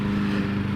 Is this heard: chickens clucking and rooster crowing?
no